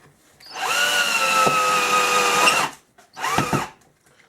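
A Sears Craftsman 13.2 volt cordless drill runs steadily for about two seconds with a slight dip in pitch midway, then winds down and gives a second short burst, loud and close.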